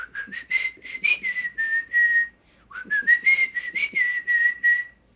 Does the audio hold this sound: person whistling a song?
yes